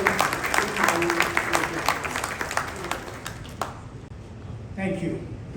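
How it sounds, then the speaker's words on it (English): Audience applause at a finance conference, a loud burst of clapping that thins out and fades after about three and a half seconds, with a voice speaking near the end. "let's give him a warm round of applause"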